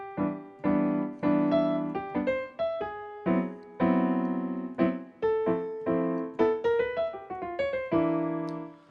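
Jazz piano plays four-note rootless voicings under a single-note melody line, phrase by phrase with short pauses, clear and close with no voices.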